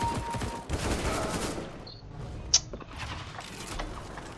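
CS:GO gunfire rattles in short bursts, quiet and somewhat distant, mixed with game mechanism clicks and a sharp metallic ping.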